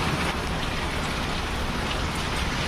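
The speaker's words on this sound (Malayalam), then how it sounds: "അടിപൊളി മഴ, 5 മിനിറ്റ് അടിപൊളി മഴ പെയ്തു" Steady heavy rain with hail pours down in a dense, even roar with no pauses, close and loud throughout, in Saudi Arabia.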